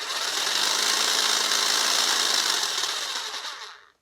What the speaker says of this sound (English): I'm just going to press the trigger and you can actually hear a rattling sound as the saw